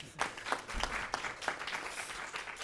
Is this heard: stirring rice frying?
no